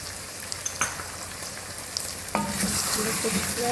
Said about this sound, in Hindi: तेज़ आंच पे भूनेंगे जब तक हमारे चिकन का कलर ना चेंज हो जाए।